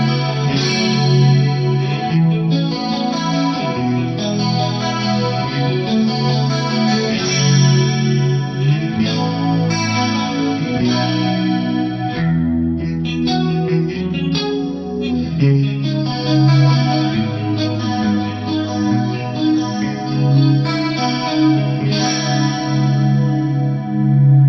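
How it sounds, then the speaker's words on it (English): An electric guitar plays chords and melodic lines through a Fractal FM9 with dimension-style chorus and H3000-style detune shimmer, washed in a long, spacious concert hall reverb. "I've got a dimension style chorus in here, some H3000 style detune, and a big concert hall reverb."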